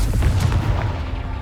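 A fiery explosion spell bursts in Hogwarts Legacy, a single heavy boom with rumbling low-end decay, loud and close, no voices.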